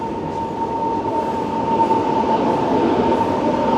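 A Russian Ivolga 4.0 electric train rumbles past with a steady roar and a faint high whine, heard from a moderate distance.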